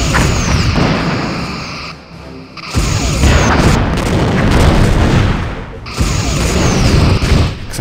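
Starship weapons fire and heavy explosions in the space combat game Star Trek: Bridge Commander, a loud, dense barrage of booming blasts and bursts rolling on nearly continuously, with a brief lull before the pounding resumes.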